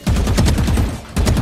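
Rapid gunfire from the Valorant video game, loud bursts of repeated shots running almost continuously, with a short lull before another burst at the end.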